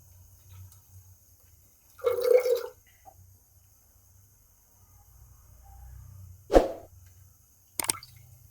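Almond-boiling water is poured into almond paste in a home kitchen, giving a short wet splash and gurgle followed by a few faint drips and plops against quiet room tone.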